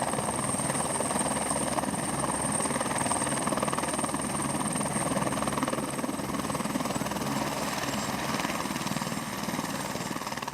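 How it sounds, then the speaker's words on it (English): Steady broadband rotor and turbine roar from the Lee County Sheriff's Department helicopter touching down north of a golf clubhouse, continuous and fairly loud for the whole stretch with no talk. "they witnessed touchdown of Chopper 1, the newest member of the Lee County Sheriff's Department"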